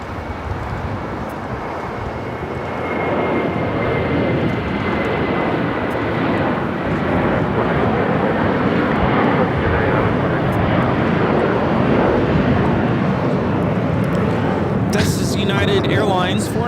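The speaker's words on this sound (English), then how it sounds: "taking off to Denver, Colorado on a 757-300" Boeing 757-300 jet taking off from Los Angeles LAX bound for Denver, Colorado; a loud, steady engine roar swelling and holding throughout, with a brief clatter near the end.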